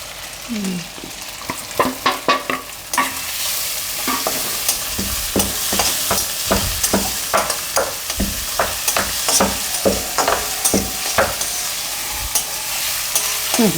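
Chopped onion sizzling in hot oil in a pan while being stirred for Gujarati urad dal, with a steady hiss under a rhythmic series of close scraping strokes of a spoon.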